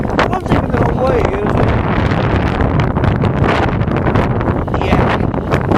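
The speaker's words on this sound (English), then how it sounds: "the wind's picking up" Strong wind blowing on a mountain in Snowdonia with rain beginning, a loud, continuous roaring rush buffeting the microphone, with speech in the background.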